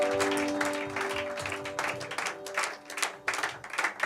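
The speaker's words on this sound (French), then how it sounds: "Est-ce qu'on peut acclamer encore le Seigneur?" A church congregation applauds the Lord together, a dense wash of clapping that rises and falls in waves, with a steady sustained tone running underneath through the first half.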